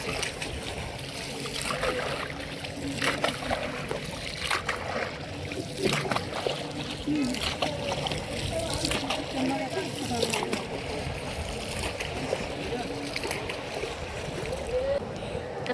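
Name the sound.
boat ride on river with water splashing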